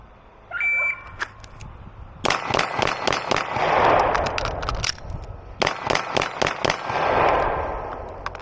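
A Beretta APX A1 Compact pistol fires two strings of sharp, loud shots in quick succession, each crack ringing with echo, separated by a short pause and preceded by faint electronic beeps.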